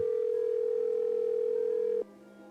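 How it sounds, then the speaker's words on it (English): Steady telephone dial tone in a Nancy Drew video game, a loud unbroken hum that cuts off abruptly after two seconds, leaving a quieter background. "Let's call ourselves and see what happened"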